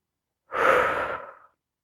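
A single deep breath during a yoga stretch, a close, full breathy exhale lasting about a second that swells and then fades out, alone against silence.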